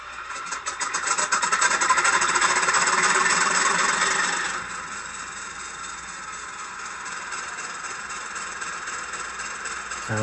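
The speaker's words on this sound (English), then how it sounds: "it'll give you a little bit of a longer engine start sequence" A model Cavalex Class 56 diesel locomotive engine cranks and revs up loudly, then drops into a steady, rattling idle that continues to the end.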